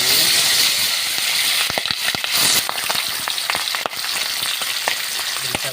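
Milkfish frying in hot oil in a pan, a dense loud sizzle with sharp crackling pops and splatters throughout, no talk.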